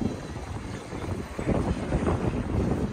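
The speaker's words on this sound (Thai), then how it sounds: "หนาวค่ะทุกคนลมแห้งๆค่ะ" Cold, dry wind gusting outdoors in Moscow, roaring and buffeting the microphone steadily throughout, growing slightly stronger toward the end.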